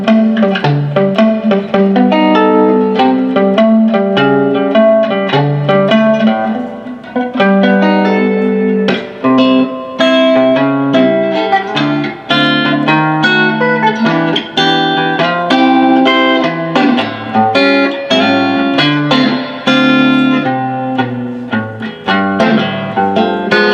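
A clean electric guitar with Harley Benton pickups plays chords and single notes through a Super Reverb amp, loud and continuous with a reverberant tail, and no voices.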